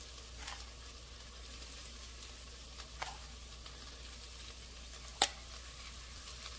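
Spice masala of coriander powder, garam masala powder and salt frying in a pan for mutton keema biryani, with a steady low sizzle and a few faint stirring scrapes, one sharper clink near the end.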